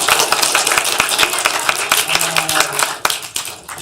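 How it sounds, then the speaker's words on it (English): A classroom of students claps for a classmate, loud close sharp individual claps in an uneven patter over several seconds, with a few distinct slaps standing out and a faint tone underneath. "Give Charlie a big round of applause"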